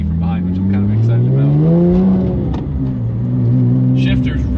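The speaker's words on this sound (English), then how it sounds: "I get to hear the Lamborghini from behind" A gated-shifter Lamborghini Murcielago heard from the car behind revs and accelerates, its engine note climbing through the gears, then easing back and pulling again, loud and throaty in a steady drone.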